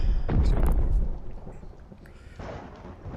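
Thunderstorm weather effect in the Kaiju Alpha monster game, a loud rumbling thunder crack with rain hiss, then a second softer rumble, with no talk.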